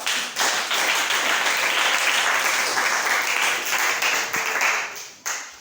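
A church congregation gives dense, sustained applause, many hands clapping loudly and continuously. The applause fades briefly near the end.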